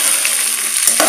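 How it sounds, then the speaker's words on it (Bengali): Beans, greens, fenugreek and onion fry in a pan, a loud close sizzle with a stirring scrape near the end. "হালকা একটু ভাজা ভাজা করতে হবে"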